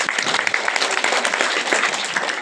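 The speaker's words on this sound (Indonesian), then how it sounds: "Tepuk tangan dulu buat Tuhan." A church congregation claps during a sermon, a brisk, even wash of many hands with scattered sharper claps, steady and moderately loud throughout.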